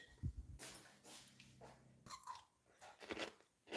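Crunchy pickle bitten and chewed close to the mic, a few irregular crisp crunches and wet chewing bursts spread over several seconds with no talking.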